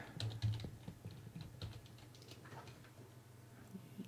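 Keys clatter softly on a computer keyboard in a short, irregular run of quick taps, close and faint, with no talking.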